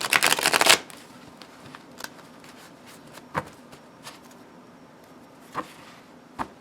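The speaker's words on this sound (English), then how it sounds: "But it's quite shuffleable." A deck of thick, stiff, glossy oracle cards gets a brief riffle shuffle, a loud crisp burst, followed by faint scattered taps and clicks of the cards being handled in a quiet room.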